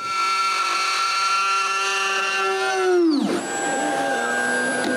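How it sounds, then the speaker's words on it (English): A woodworking router spindle with a steady high whine and strong harmonics bogs down under load from dust it cannot clear, its pitch sliding sharply down as it stops by itself, leaving a quieter hum behind. "it was becoming too hard on my spindle, and here we can even hear it stop by itself"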